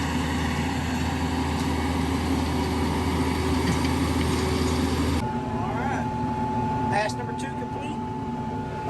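A TYM T574 tractor fitted with a tiller works a farm field, its diesel engine holding a steady, droning hum that shifts in tone partway through, while someone talks over it.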